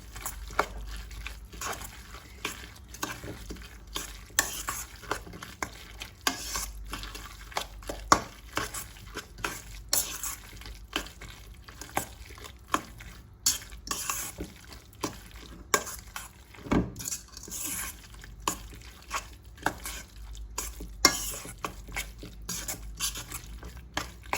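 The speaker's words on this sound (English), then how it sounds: "Right, let's use a spoon now. I'm just gonna stir that up." A spoon stirs food in a pot while cooking brown stew chicken, making repeated soft scrapes and clicks in an irregular rhythm over a faint, quiet background for about twenty seconds.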